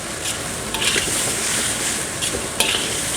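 Rice with peas is stir-fried in a hot pan, giving a loud continuous sizzle with scraping, shuffling stirring strokes and a few sharp utensil taps against the pan.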